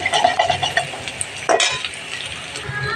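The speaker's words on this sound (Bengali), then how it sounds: "সবজিগুলো এক সাইডে নিয়ে ডিমটা মাঝখানে দিয়ে দিলাম ডিমটাকে একটু নেড়ে ছেড়ে কেটে দিব" Vegetables and egg stirred together in a hot karahi for an Eid breakfast dish, with a steady sizzle broken by repeated scraping and clinking of a spatula against the pan and one sharper scrape midway.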